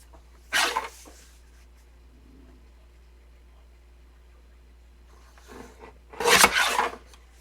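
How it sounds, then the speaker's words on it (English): A large paper cutter slices the sides of a pop-up book: one brief sharp cutting swish, a quiet pause with faint rustling, then a longer, louder double cut close up. "And now I'm going to cut the sides here with my big cutter."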